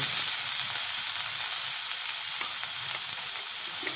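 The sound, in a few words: garlic and onion paste frying in pan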